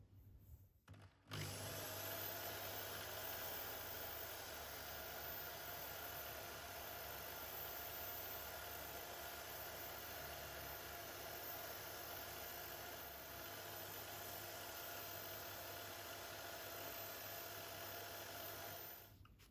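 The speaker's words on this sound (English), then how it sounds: "Let's put it on the polishing wheel and see if we can get it looking better" Steady motor whine of a polishing wheel buffing a pitted bicycle cap nut, starting after a brief pause and holding a constant loud hum with no talk until it winds down at the end.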